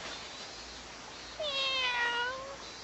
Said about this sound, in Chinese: 有五只湿淋淋的小猫，几乎都不行了，可是还有一只活着哦。